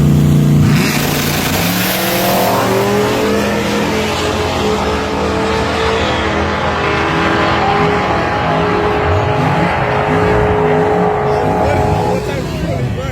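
Race car running on E90 fuel accelerates hard on a track, its engine revving loud and close with rising and falling harmonic whine and possible tire squeal, while people talk excitedly over it throughout.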